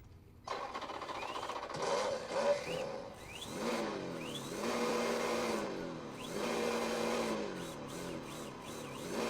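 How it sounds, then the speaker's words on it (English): Simulated engine sound from a Meus micro sound module on a mini RC truck, a buzzy synthetic motor note rising and falling in repeated revs, fairly close with no talking. "Engine sound mode."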